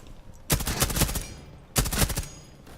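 Two short bursts of automatic gunfire from the video game Rainbow Six Siege, each a rapid loud rattle of about a second, separated by a brief pause.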